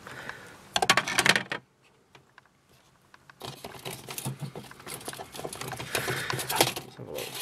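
Desiccant dehumidifier wheel motor jamming and grinding, a close scratchy rattling clatter in short bursts, then a longer uneven stretch of scraping noise after a brief quiet gap.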